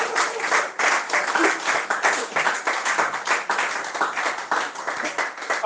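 A church congregation claps to acclaim the Lord during a service, a dense, lively round of applause with a loosely rhythmic pulse that swells and dips throughout, and a voice faintly audible beneath it.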